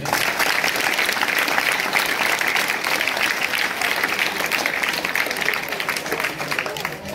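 A seated audience at an AIDS awareness gathering in Darsi claps steadily and densely for several seconds. The applause stays loud and even throughout, with no talk over it.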